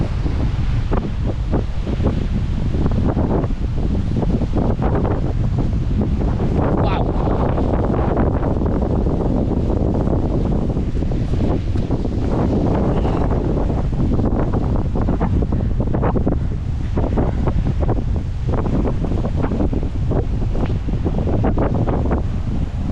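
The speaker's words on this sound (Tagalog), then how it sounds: "Wow, palakas na palakas ang hangin." Loud, sustained typhoon wind batters the microphone near the sea throughout, a constant roaring rumble with surging gusts, and faint voices occasionally beneath it.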